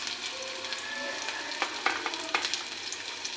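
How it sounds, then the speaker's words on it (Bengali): Onions fry in hot oil for a flattened-rice pulao with a constant close sizzle, while a utensil stirring in the pan adds a few sharp scrapes and clicks near the end. Nobody speaks. "তেলটা গরম হয়ে গেছে, এখন আমি পেঁয়াজটা দিয়ে দেব।"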